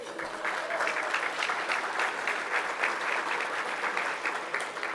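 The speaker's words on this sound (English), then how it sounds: "If we could hold our applause till the end, please" An audience at a city business awards ceremony claps, a dense, continuous patter of many hands at fairly even loudness, somewhat distant and roomy, without speech over it.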